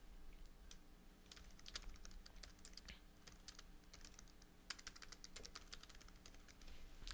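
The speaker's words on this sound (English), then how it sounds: "So I'm going to go ahead and type a little note." Rapid, steady keystrokes on a computer keyboard as a short note is typed, close and clear over a quiet background with no talking.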